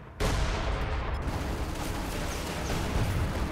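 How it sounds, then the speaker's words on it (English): Base guns and artillery fire in Company of Heroes 2 as a dense, continuous rumbling barrage starts abruptly and holds steady, loud and close. "You can see the guns in my base are going to start shooting."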